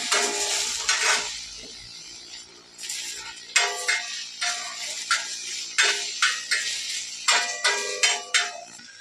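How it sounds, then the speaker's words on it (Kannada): Tomatoes and cumin frying in a pan, a steady sizzle broken by repeated scraping strokes of a spoon against the metal, close and fairly loud, with no talking. "ಇವಾಗ ಈ ಥರ ಫ್ರೈ ಮಾಡಿಕೊಂಡು ಇನ್ನೂ ಸ್ವಲ್ಪ ಫ್ರೈ ಆಗಬೇಕು"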